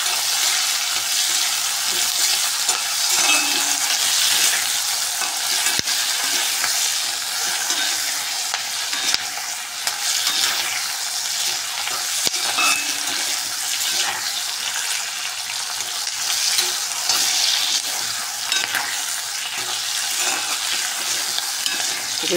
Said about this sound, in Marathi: आता आपण यामध्ये हिरव्या मिरच्या घालून घेणार आहोत। त्या देखील या सर्व साहित्यांमध्ये भाजून घेणार आहोत।